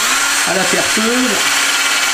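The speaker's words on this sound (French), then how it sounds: "Et je fais un trou donc à la perceuse." An electric drill bores into a still-damp plaster ant nest, a short steady whine that rises and falls in pitch over a continuous motor hum, close and loud.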